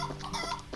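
Chickens clucking in the video game Trails in the Sky FC, a brief burst of short clucks and squawks under a busy game background.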